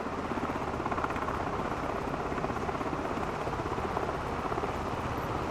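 A helicopter in a flight simulator video game drones steadily with a dense, continuous rotor and engine roar at moderate level and no talk over it.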